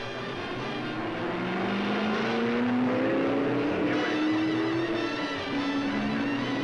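Ford and Ferrari race cars competing in a long endurance auto race, with engine drones rising and falling in pitch as the cars pass, moderately loud and fairly distant, with no voices.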